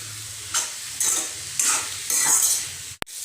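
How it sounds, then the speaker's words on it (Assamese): Radish greens fried with red chilli and cumin powder get stirred in a pan, giving four scraping, sizzling stirs in a slow rhythm over a low steady fry, then a sharp knock near the end. "এইখিনি এতিয়া মই ভালকৈ মিক্স কৰি অলপ সময় ভাজি ল'ম"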